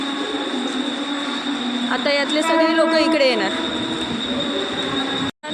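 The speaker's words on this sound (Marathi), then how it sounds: "आता ही सी एस टी ट्रेन आली" A commuter train rumbles into a station with squealing wheels and brakes, while a person speaks nearby.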